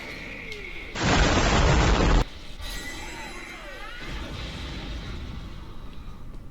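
A loud explosion bursts from the JoJo's Bizarre Adventure: All Star Battle R fighting game, a dense roar lasting about a second, followed by lighter in-game effects and whooshing sounds as it fades.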